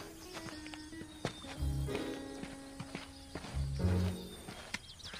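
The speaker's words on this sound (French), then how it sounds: "J'imagine que mon cheval doit être celui-ci." Horse hooves clip-clopping at a walk, a few irregular thuds close by with a soft background hum, no talking.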